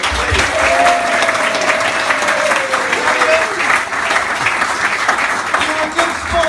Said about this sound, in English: A round of applause for Elliot, please.